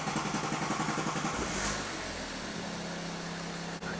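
A 2017 BMW 3 Series 3.0-litre turbo diesel cranks and catches after a few seconds, then settles into a steady clattering idle, loud and close throughout.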